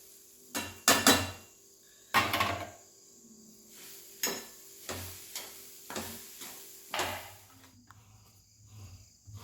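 Grated coconut roasting in ghee in a pan, with a series of spaced spatula scrapes and knocks over a faint, soft sizzle, close and fairly quiet.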